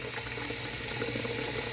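Cold tap water filling a kettle for tea, heard as a steady close rushing stream that stays even and continuous through the short stretch, with no voices.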